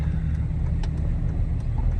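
Third-generation Dodge pickup truck driving on a road, a steady low engine rumble and road noise, fairly loud and close, with a few faint clicks and no talk.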